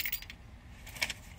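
A set of car keys jingles in two quick bursts, close and fairly quiet, with a brief pause between shakes.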